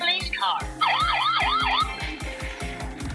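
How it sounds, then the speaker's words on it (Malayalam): A talking toy book plays a recorded police siren, a loud wailing electronic tone that sweeps rapidly up and down over a rhythmic pulsing beat, close and alone without talk. "പോലീസ്"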